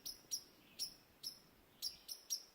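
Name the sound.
birds calling near their nest in a forest blowdown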